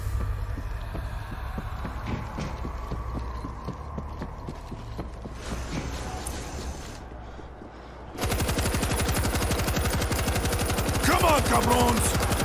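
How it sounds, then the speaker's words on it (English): Rapid mounted machine-gun fire in the zombie shooter World War Z, a dense rattling burst stream that runs throughout and turns louder and harsher in the final seconds, with no talk over it. "Machine gun installed."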